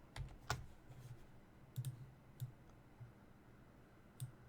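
Quiet, scattered keystrokes on a computer keyboard come as a few separate clicks and short bursts of two or three taps, close and soft, with no voice.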